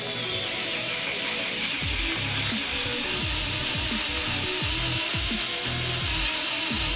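A cheap Goldsea electric screwdriver drilling a hole, its motor whirring loud and close throughout with a rough grinding texture and repeated dips in pitch as the bit bites.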